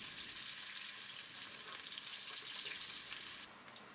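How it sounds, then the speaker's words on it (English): Chopped shallots fry with whole spices in a pot for a South Indian mutton curry, giving a steady, loud, dense sizzle that continues without pause and drops slightly in level near the end. "add the chopped shallots into the pot. Fry them for 2 minutes."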